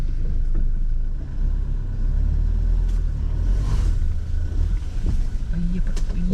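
A Toyota Hilux pickup in high-range 4x4 pulls away, its engine a loud, steady low rumble with road and wind noise that swells and dips over several seconds.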